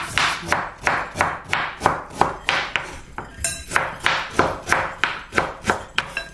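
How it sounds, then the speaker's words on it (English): Steady knife chops through ginger on a cutting board, about fifteen sharp, evenly paced strikes close by with a brief pause midway, no talking. "could you chop the ginger for me, please?"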